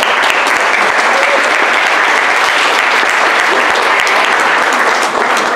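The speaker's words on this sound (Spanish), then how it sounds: "les pido un fuerte aplauso, por favor" Loud, sustained applause from a conference audience in a hall, a thick wash of many hands clapping at once, strong and unbroken from start to finish.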